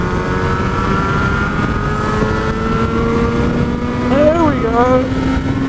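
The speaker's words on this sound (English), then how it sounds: "Oh, you have to rev these things though. You have to rev them to make them go." A Yamaha RD350 YPVS two-stroke motorcycle idles loudly up close, then its engine is blipped in a couple of quick revs near the end, while a voice speaks briefly over it.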